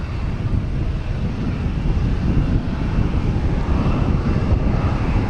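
An Emirates Boeing 777 airliner landing at Boston Logan Airport: a loud, steady jet engine roar fills the whole stretch, mixed with wind buffeting on the microphone, and no one talks.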